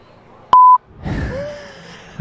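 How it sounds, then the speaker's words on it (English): A censor beep cuts over singing on a livestream, one loud steady tone of about a quarter second followed by a short second blip, then a voice continuing afterward. "He's beeping my singing."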